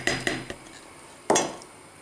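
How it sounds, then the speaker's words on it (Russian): Egg yolks, sugar and starch whisked together in a bowl: a few sharp clinks of the whisk against the bowl, then a pause and one more louder scrape and clatter, close and without talk. "Так, все хорошенько сейчас венчиком размешаем."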